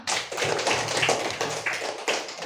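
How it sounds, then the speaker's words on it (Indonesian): A classroom of Indonesian students claps for classmates who answered correctly, making a dense, close burst of quick overlapping claps that continues steadily with a few sharper accents. "Tepuk tangan dong."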